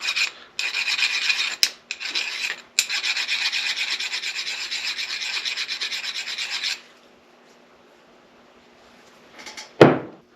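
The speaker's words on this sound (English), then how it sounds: "I'm just going to take a file and I'm just going to run it over the hole" A metal file rasps back and forth in rapid strokes for several seconds as it deburrs a freshly drilled hole in metal, then stops, followed by a few faint scrapes and a sharp knock.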